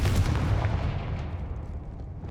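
A Confringo blasting spell exploding in Hogwarts Legacy, one loud booming burst at the start that rumbles and fades away over about two seconds, with no talking.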